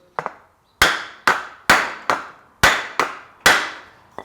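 A metal hood hinge for a GTO restomod, clamped in a vise, is struck again and again through a wooden block. After two light taps come seven sharp, evenly paced blows that ring briefly, close and loud.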